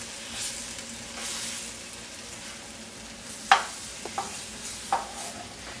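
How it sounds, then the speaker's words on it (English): White wine hits a hot pan to deglaze it for a basil chicken gravy, giving a steady, close hissing sizzle with a few light clicks from a utensil partway through. "I'm going to deglaze the pan with some white wine to make a nice thick gravy"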